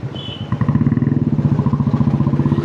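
A motorcycle rides along a road, its engine giving a loud, close, rapid rhythmic thrum that holds steady after a short quieter start.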